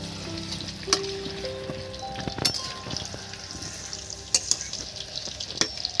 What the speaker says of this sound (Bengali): আলুগুলো ভাজা হয়ে গেছে দেখুন।